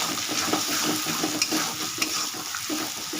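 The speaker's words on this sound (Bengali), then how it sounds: "এগুলো দিয়ে কষাতে থাকবে।" Chili, coriander and cumin powders sautéing in a pan for lentil and egg kofta, a soft steady sizzle with a spoon stirring and tapping the pan, close up and without talk.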